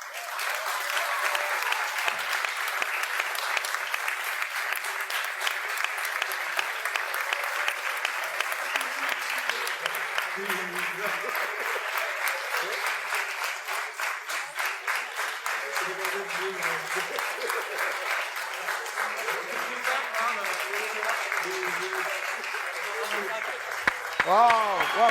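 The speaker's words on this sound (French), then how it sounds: "je pense qu'ils sont à applaudir en tout cas" Sustained audience applause for the winning competition team, steady and dense clapping throughout with faint voices beneath, rising at the very end.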